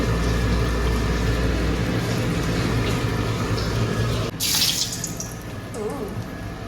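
Water pours and splashes into a cooking pot during home meal preparation, a steady running stream with a brief brighter splash midway, close and moderately loud with no talking.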